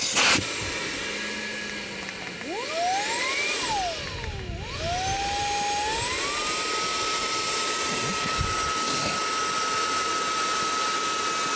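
A GIGA Pump 17 multifunctional electric pump runs steadily while deflating an inflatable boat, giving a loud continuous motor whine and airflow hiss whose pitch sweeps and wavers early on, then settles into an even tone.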